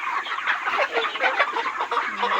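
Many chickens clucking and murmuring together inside a poultry shed, a busy continuous chatter of birds close at hand.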